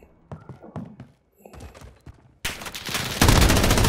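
Scattered game clatter gives way to a light machine gun in Modern Warfare firing sustained automatic bursts that grow louder and denser toward the end. No voices are present.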